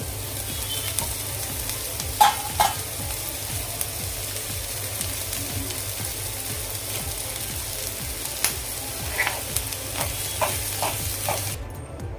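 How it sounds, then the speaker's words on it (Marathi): Cauliflower egg bhurji is stirred and fried in a pan, giving a continuous close sizzle and hiss broken by repeated spatula scrapes and taps against the pan. "व्यवस्थित हे मिक्स करून घेऊया पुन्हा"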